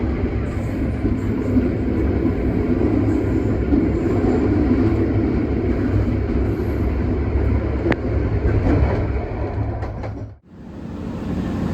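A Supas commuter train pulls into Waru station near Surabaya in the evening, heard from on board as a loud, continuous rumble with rail noise, ending in a brief sharp dip near the end.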